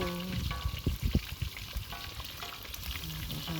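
Pork belly frying in a pan for lechon kawali, a continuous sizzle with a few louder bursts of popping and stirring clatter near the middle, close and moderately loud with no talking.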